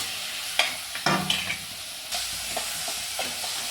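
Prawn fry masala with two onions and two tomatoes cooking in a pan, a steady hissing sizzle broken by a few sharp scrapes and stirs of a spoon near the start, close by and without voices.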